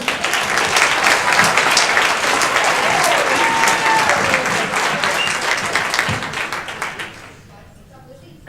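Loud, full audience applause fills the room for several seconds, then thins out and fades to near silence at the end.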